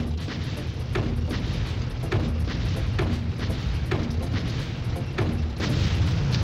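Explosions in Army Men Sarge's Heroes as a tank is destroyed: a steady run of repeated booming blasts and gunfire-like bursts roughly every half second to second, dense and continuous over rumbling game noise, with no speech.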